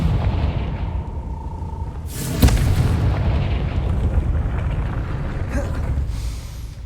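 A Confringo spell in the video game Hogwarts Legacy: a heavy rumbling explosion with a sharp crack, then a deep sustained roar and debris over a low ambient drone.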